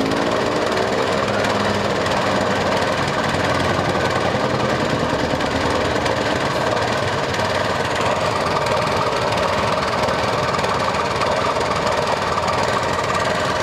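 A small motorcycle-pushcart hybrid engine without a license plate runs continuously in Indonesia, a loud, rough, steady knocking drone that stays close throughout with no pauses.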